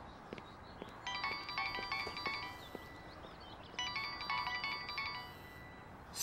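A phone rings with an incoming call in two bursts of a bright, repeating electronic ringtone, moderately loud over a faint background.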